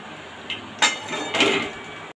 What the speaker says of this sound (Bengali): এখানে দেখুন কড়াই বসিয়েছি, কড়াইতে দিয়ে দেবো পরিমাণ মতো তেল।